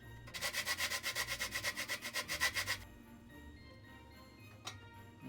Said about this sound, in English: Grate some nutmeg onto the porridge.